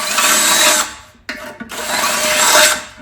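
A power drill boring 8.5 mm holes into a rusty muffler on a V-twin Briggs & Stratton engine, two loud sustained whining bursts separated by a short pause with a couple of brief clicks.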